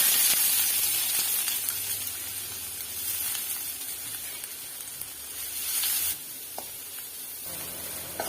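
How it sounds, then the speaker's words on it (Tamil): Onions dropped into hot oil in a pan for bombil karuvadu thokku sizzle and crackle with a broad steady hiss, loud and close, easing slightly near the end with a few small pops. "எண்ணெய் சூடாயிட்டு வெங்காயத்தை போட்டு"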